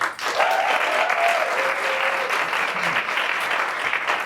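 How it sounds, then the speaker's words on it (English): An audience at an in-person women in sales event applauds a speaker being welcomed, dense sustained clapping filling the room with a faint voice briefly audible early on. "So a round of applause to Denisa."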